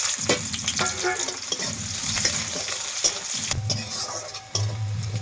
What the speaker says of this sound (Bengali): তারপরে দেবো পেঁয়াজ কুচি